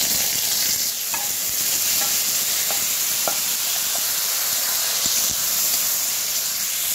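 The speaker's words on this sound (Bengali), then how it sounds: "এবার এগুলো দিয়ে একটু ভেজে নেব।" Small goat fat pieces coated with turmeric and salt fry in hot oil in a kadai, giving a loud, steady sizzle with occasional light stirring clicks, heard close and without talk.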